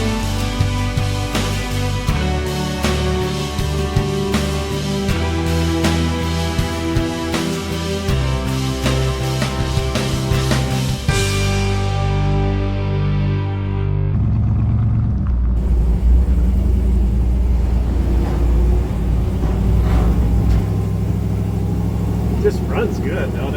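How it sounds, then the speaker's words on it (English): A 1946 Chevy pickup on its first drive gives a loud, throaty exhaust note that climbs and drops through several shifts, then settles into a lower, smoother rumble as it cruises. "But you know the exhaust note isn't terrible."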